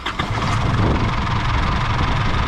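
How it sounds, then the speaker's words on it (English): Emma's engine, with a dropped injector, runs rough at idle, a close, loud, uneven low rumble with a shaky, lumpy rhythm and no let-up. "looks like she's dropped an injector, so anyway, fire up Emma, we'll see what, show you what she sounds like. She's running pretty rough"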